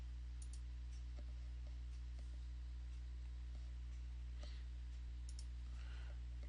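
A computer mouse clicks a few times, sharp and faint, scattered over a steady electrical hum with no talking.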